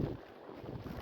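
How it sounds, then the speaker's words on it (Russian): Strong wind blows in a snowstorm along a riverside embankment, a loud, rough, continuous buffeting roar across the whole short moment with no voices. "Ветер сильный, но по температуре немножко потеплее."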